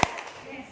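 A roomful of teachers at a workshop claps once in unison, one sharp burst right at the start that fades into low room noise.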